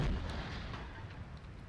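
Distant artillery fire in the Graviteam Tactics war game, set during the Second Battle of Kharkov: a single low, dull boom at the start fades into a long rumbling tail, heard alone without talk.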